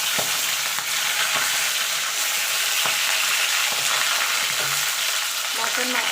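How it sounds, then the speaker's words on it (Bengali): Catla fish heads fry in hot oil, giving a loud, dense, continuous sizzle with frequent crackling spits and a few stirring knocks. "দেখুন বন্ধুরা তেলটা গরম হয়ে গেছে। এবার মাছের মাথাগুলো আমি ভেজে নেব।"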